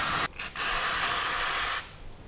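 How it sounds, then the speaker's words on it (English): Short bursts of aerosol sealant hiss from a can sprayed over a barndominium surface: a brief spurt, a quick stop, then a longer steady close hiss that cuts off cleanly. "I'm gonna spray up here. And kind of let it run down."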